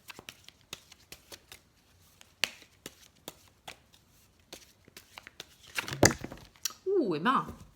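Tarot cards are handled and shuffled in scattered light snaps and flicks, followed by a louder riffling flurry near the end, close to the microphone with a voice joining at the close.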